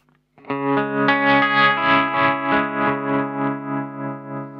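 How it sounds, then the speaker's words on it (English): A sustained electric guitar chord through a Pigtronix Tremvelope pedal's sine wave tremolo pulses steadily in volume, the smooth wavering rising and falling in a regular rhythm as it slowly fades. "So that was the sine wave tremolo"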